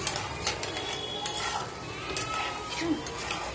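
Egg biscuits fry in a pan while a utensil stirs and turns them, giving a soft continuous sizzle with scattered scraping and light clinks of metal against the pan, fairly quiet and without talk.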